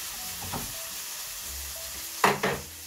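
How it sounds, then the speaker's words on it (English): Meat frying in a pan gives a low, quiet sizzle, broken by a few short scraping stirs, the last two strokes louder and close together near the end. "Stir my meat up."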